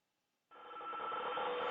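A telephone ring in the Five Nights at Freddy's game starts abruptly after a brief silence and continues as a steady electronic trill, moderately faint and heard alone.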